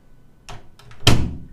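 An apartment door in a Manhattan studio opens with a couple of light clicks and rattles, then a fuller thud as it swings, close and alone with no talk.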